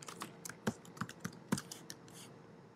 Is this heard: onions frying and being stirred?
no